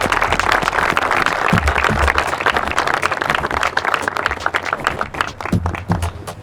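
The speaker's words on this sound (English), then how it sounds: "Everybody, round of applause." A crowd applauding the champion of a competitive event, dense sustained clapping filling the room for several seconds, loud and steady before gradually thinning toward the end.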